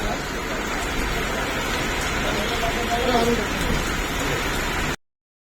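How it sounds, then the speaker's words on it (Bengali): Heavy rain pours steadily during a storm at the seaside town of Digha, a dense even hiss filling the whole stretch before cutting off abruptly. "দেখো প্রচুর পরিমাণে বৃষ্টি"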